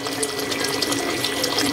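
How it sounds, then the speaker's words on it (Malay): Water splashes steadily into a cooking pan while making Thai-style oyster sauce chicken, a close, continuous pouring rush that keeps an even level throughout. "Masuk sedikit air. Jangan banyak sangat"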